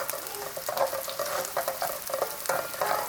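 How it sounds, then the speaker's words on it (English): Onions and garlic frying in a pan while being stirred: steady close sizzling with bursts of scraping and clattering from the stirring utensil at irregular intervals, no voices. "Right, I'm going to give them a little stir."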